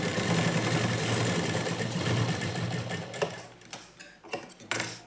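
A sewing machine stitching the hook strip of a lined blouse runs with a steady close mechanical whirr for about three seconds, then slows into short stop-start bursts and clicks.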